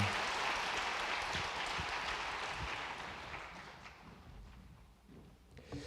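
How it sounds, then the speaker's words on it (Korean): Congregation applause during an Easter Sunday church service, broad dense clapping from a large crowd heard at moderate distance, gradually tapering off over several seconds. "다 같이 큰 박수로 축복해 주시기 바랍니다."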